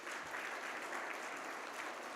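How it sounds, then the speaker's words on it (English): Audience at a parents' meeting applauds the sponsors, a steady burst of clapping from a room of people lasting about two seconds, fairly close and even throughout. "Please give them a round of applause."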